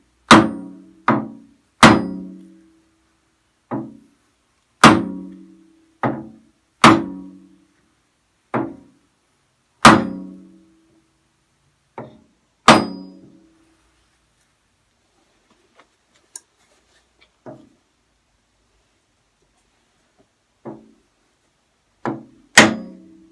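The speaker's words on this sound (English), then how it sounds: "So here we go with the sledgehammer." A sledgehammer knocking bearings out of a Woodfast lathe, sharp metallic whacks in an irregular series of about a dozen loud close blows with pauses, then a few lighter taps, no talk.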